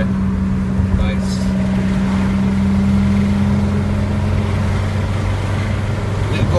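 A car engine hums steadily at a constant drone, its low tone holding even throughout, with road and wind noise around it and no clear surges.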